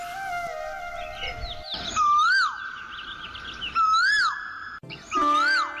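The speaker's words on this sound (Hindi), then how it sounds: "वरुण सुनो, कोयल की मधुर आवाज तुम्हें सुनाई दे रहा है।" A koel sings in scenic open surroundings, giving three clear whistled calls that rise and then dip, spaced a couple of seconds apart over steady background tones.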